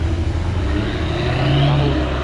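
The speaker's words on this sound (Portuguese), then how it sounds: "O carro merece ser acelerado, ó." Jaguar F-Type sports car accelerating during an Interlagos track day, a steady loud engine drone with a rising note near the end, heard continuously with faint background voices.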